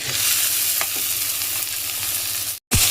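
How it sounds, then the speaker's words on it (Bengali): Cabbage is added to a frying hilsa fish head in a pan, with a loud close sizzle, a few stirring knocks and a brief drop-out before the sizzle surges back. "এখন দিয়ে দেবো আমি বাঁধাকপি"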